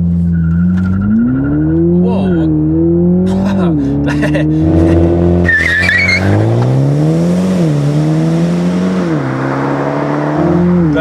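Toyota GR Supra 2.0 four-cylinder launching hard with launch control, engine climbing in pitch through repeated gear shifts with brief dips between pulls and some tire noise, loud throughout while someone speaks German.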